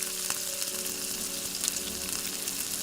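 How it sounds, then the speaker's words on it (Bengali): Tomatoes and jackfruit fry in a pan for the jackfruit and prawn dish, making a constant close sizzle with light stirring clicks and no voice. "এবার আমি ভালো করে কষিয়ে নেব"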